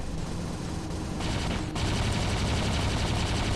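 Lock-on guns on a War Robots mech fire in a dense, continuous stream of rapid shots, loud and close, with a brief shift in tone partway through as the barrage keeps going.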